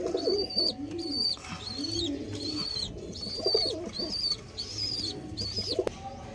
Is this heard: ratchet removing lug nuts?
no